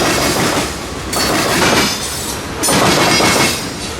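A CSX freight train led by two GE locomotives and hauling open sand hoppers, jumbo covered hoppers and jumbo aggregate hoppers rolls past near Cottondale, Florida. The rumble is loud and steady, with rhythmic clickety-clack as the car wheels cross rail joints, and no voices.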